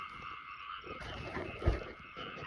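Frogs croak in a field at night in Thailand, a chorus of rasping calls over a steady buzz of insects, with one louder close croak standing out midway.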